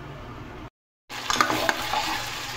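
Chicken being stirred in a covered pan over low heat, with a soft steady sizzle and occasional scraping after a brief silent gap, no voices.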